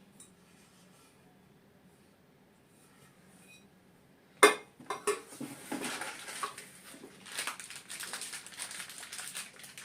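A stainless steel pressure cooker is handled: a sharp metallic knock, then a run of clanks and rattles of lid and body after a quiet start.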